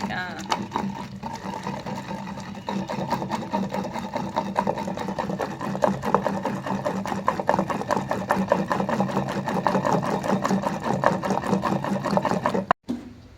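Gongura chutney with chilli paste is pounded by hand in a stone mortar, giving a rapid, steady run of dull thuds close by, with voices talking over the pounding.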